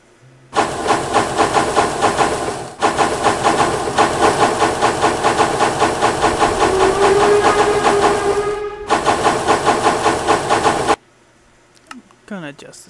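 A steam locomotive in a train video game throttles up: loud rhythmic chuffing with hissing steam runs nearly continuously, broken by two short gaps, with a rising whistle-like tone partway through, then falls away to near quiet.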